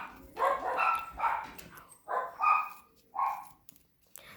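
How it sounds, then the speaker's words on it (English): Several dogs bark in a home during a pom-pom craft session, with a few loud barks and yips coming in separate bursts, close to the microphone and with no talk over them. "Sorry for the dogs barking."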